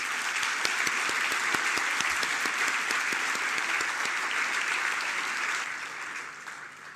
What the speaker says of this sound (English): Ladies and gentlemen, may we give him another round of applause.